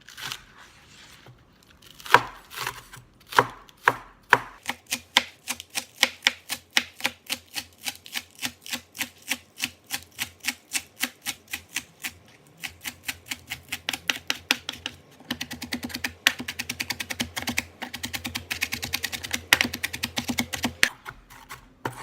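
Onion being minced with a knife on a board for wonton soup, a long run of rapid, sharp chopping taps, sparse at first, then quickening into dense, even bursts, close and alone.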